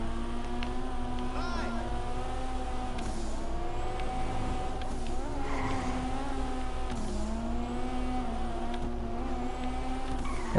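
Steady engine drone of a car driving in GTA, with a sustained whistling tone that rises and falls over the engine noise throughout.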